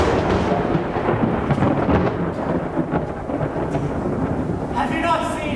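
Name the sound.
thunderstorm sound effect in Poe reading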